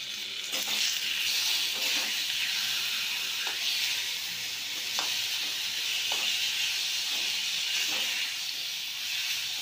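Tomatoes with turmeric and salt sizzle steadily in a hot pan, a continuous close hiss with faint scattered pops and no talking.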